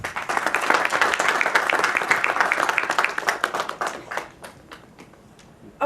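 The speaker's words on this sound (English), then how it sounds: "A big round of applause to Mr." Audience applause for a guest director at the IFFI 2019 film festival ceremony, a dense burst of many hands clapping that thins out toward the end into a few scattered claps.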